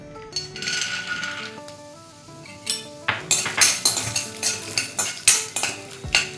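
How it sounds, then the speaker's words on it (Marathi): Peanuts frying in a little oil in a wok, with a metal spoon repeatedly scraping and clinking against the pan in a quick, steady rhythm of sharp close strikes over a faint sizzle. "कढईमध्ये थोडंसं तेल घालून त्यावर आपल्याला शेंगदाणे फ्राय करून घ्यायचे"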